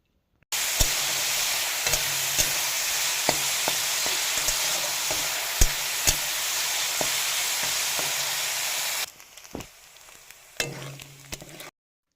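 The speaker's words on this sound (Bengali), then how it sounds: "পরিমাণ মতো তেল দিয়ে চিকেনগুলো ছোট্ট ছোট্ট করে কেটে নিয়েছি দিয়ে ভালোভাবে ভেজে নেব চিকেনটাকে" Small cut chicken pieces fry in oil in a pan, a loud continuous sizzle with occasional sharp ticks and spatters, dropping to a quieter, patchier crackle near the end.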